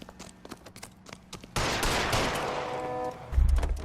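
Gunfire erupts in L.A. Noire during a chase, with a sudden loud burst after some quieter scuffling, then a dense run of shots and a heavy low thud near the end.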